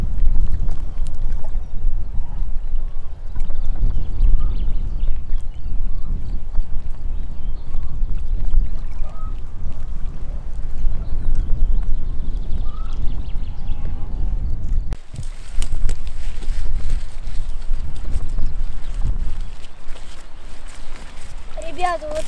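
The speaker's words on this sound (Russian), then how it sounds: "Очень сильный ветер. Даже тяжелые блесны еле закидывают. Ветром сдувает." Strong wind buffeting a small fishing boat during pike fishing after spawning, a loud continuous low roar over the whole stretch, with people talking faintly underneath.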